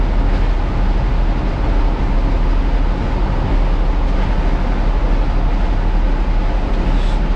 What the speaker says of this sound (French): J'entends tout juste le bruit du vent et le murmure du moteur.